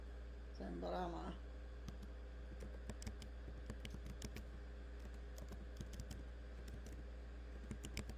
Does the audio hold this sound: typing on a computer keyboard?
yes